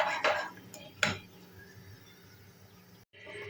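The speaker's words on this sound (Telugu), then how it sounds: "మధ్య మధ్యలో ఇలా కలుపుతూ నీళ్ళన్నీ ఇంకిపోయేంత వరకు ఉడికించుకోండి చింతపండును" Tamarind being stirred in a cooking pan, with a few metallic clinks and scrapes of a utensil against the pan over a low background, then a brief pause.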